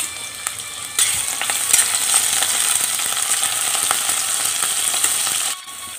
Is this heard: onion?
yes